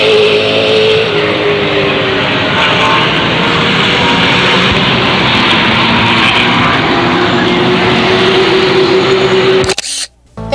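Race cars roar around Illiana Motor Speedway, a big, fast paved half-mile oval, their engines a loud, continuous drone that holds steady before cutting out abruptly near the end.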